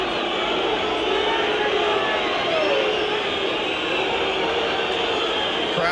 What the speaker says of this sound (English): Crowd deeply unhappy about Dugan being taken off.